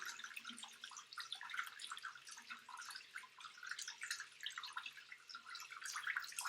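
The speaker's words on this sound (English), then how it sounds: "Turn on the water, and we're gonna start rinsing." Tap water runs into a kitchen sink while eggs are rinsed under it, a soft continuous splashing trickle with small drips, quiet and steady, with no one speaking.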